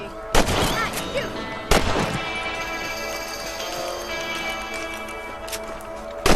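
Red Dead Redemption gunfire as rabbits are shot: two loud, sharp cracks early on, then a longer ringing tail, with a couple of fainter shots near the end.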